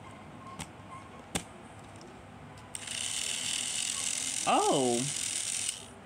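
A Trackmaster Paxton toy train's battery-powered motor whirs fairly noisily for about three seconds, preceded by a few light clicks and a short exclamation from a nearby voice.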